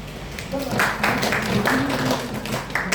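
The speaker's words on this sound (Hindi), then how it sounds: "अंकित कटारिया जी के लिए तालियां" An audience applauds a participant in a training session, steady mid-level clapping running the whole length with a voice and murmuring mixed in beneath it.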